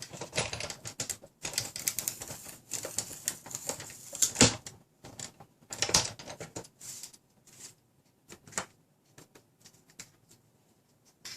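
Foiled cardstock being rolled through a die cutting machine with an embossing folder for a Christmas card: a series of close, irregular clicking and crunching bursts with brief gaps, fairly quiet and without talk.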